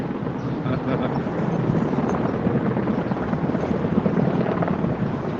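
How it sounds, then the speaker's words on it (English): Rumbling, fluttering rotor noise of helicopters overhead at a Los Angeles protest fills the clip continuously, fairly loud with a gusty, wind-buffeted texture. "Helicopters."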